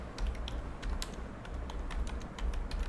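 Computer keyboard typing at a steady, quick rhythm of close, crisp key clicks over a low background hum, with no talking.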